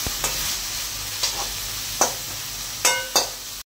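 An egg fries in hot oil with a soft, continuous sizzle, marked by five sharp scraping clicks of a utensil against the pan before the sound cuts off abruptly.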